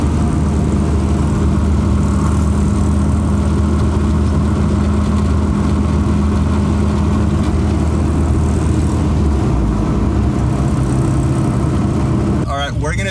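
A Toyota 4Runner fitted with a swapped 3RZ engine cruises at about 45 mph, giving a steady, loud mid-range engine drone with road rumble throughout and a brief clatter right at the end.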